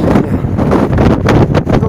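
Loud, steady blizzard wind roars and buffets close to the microphone, a dense blustery rush with no pauses, like a snowstorm blowing hard, on the Yamal Peninsula.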